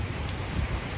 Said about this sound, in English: we're gonna close her down while this hard rain's coming through